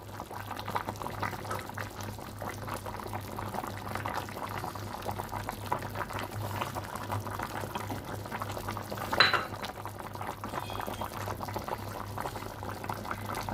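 A tajine of peas, carrots and artichokes bubbles gently on the heat, a soft steady simmer with faint popping and one brief clink partway through, no voices.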